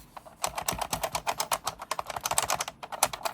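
A repaired Rock Band guitar controller strum bar is flicked rapidly, giving a dense run of crisp, keyboard-like clicks close up, steady and alone.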